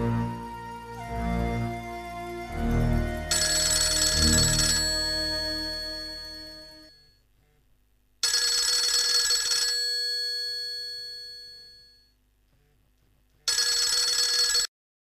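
Telephone ringing indoors in a home, three bursts of an electronic ringtone separated by silences, fairly clear and alone with no talk.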